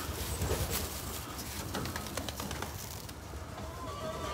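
Soft, low cooing of a Jansen pigeon hen close by, with a faint rustle of wings and background noise.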